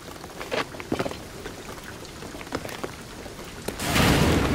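Rain from the video game Shadow of the Tomb Raider, with scattered drops and patters that swell into a heavy, steady downpour near the end, heard alone without voices.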